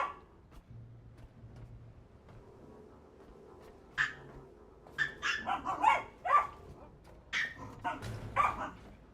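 Several dogs bark, yip and whimper indoors in short excited bursts that grow busier toward the end, mixed with a person talking.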